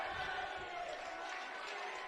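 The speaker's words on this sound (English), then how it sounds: "Sophomore Caden Lassiter getting the cheer from the home crowd." Home crowd at a high school boys basketball game, North Bend at Crater, giving a sustained cheer for a sophomore checking in, a steady roar of many voices filling the gym without break.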